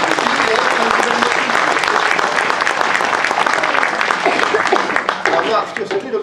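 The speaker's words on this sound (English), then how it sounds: "Give it a big round of applause." Audience applause after a children's magic trick where an egg appears from a bag, with sustained, dense clapping from a crowd that continues steadily and tapers slightly at the end.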